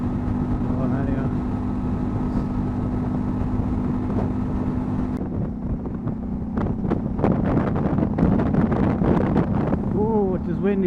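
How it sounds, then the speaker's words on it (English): Steady low wind rumble buffets the microphone throughout, with a motor-like drone underneath and scattered thumps and gusts growing busier in the second half. "it is windy up here."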